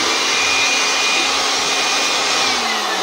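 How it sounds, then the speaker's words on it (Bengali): An Inco-brand cordless, battery-powered blower runs at full speed with a loud, steady whoosh and high whine, holding constant close up with no speech. "এটা হলো কর্ডলেস ব্লোয়ার মেশিন, ব্যাটারি চালিত ব্লোয়ার মেশিন।"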